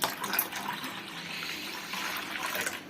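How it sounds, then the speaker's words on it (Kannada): Water being poured into buttermilk, a steady soft splashing pour that runs continuously at moderate level. "ಇವಾಗ ಎಷ್ಟು ಬೇಕೋ ಅಷ್ಟು ನೀರು ಸೇರಿಸ್ಕೊಳ್ಳೋಣ"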